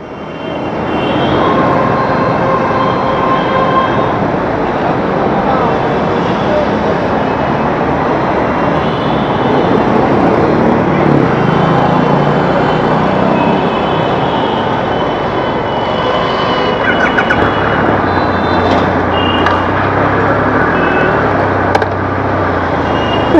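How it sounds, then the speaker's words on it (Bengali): A Triumph Rocket 3 motorcycle with a 2500cc engine runs steadily at a loud, constant idle throughout, a broad deep rumble with no talking. "ট্রায়াম্ফ রকেট 3 অন হবে, 2500 সিসির ইঞ্জিন"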